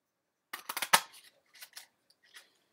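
Paper being trimmed with scissors to fit a craft builder punch for a lemon-themed birthday card, a quick run of sharp close snips followed by a few quieter cuts, with no talking.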